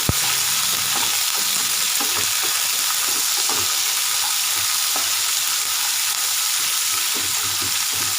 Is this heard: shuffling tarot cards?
no